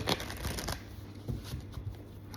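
Tarot cards being handled and shuffled for a reading, a brief flurry of soft papery riffling and slaps close up, fading into lighter rustles.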